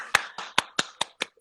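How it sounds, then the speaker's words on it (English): About six sharp, close hand claps at an even, unhurried rhythm, as a small group or single person applauds during a casual live-stream chat. "Give yourselves a round of applause."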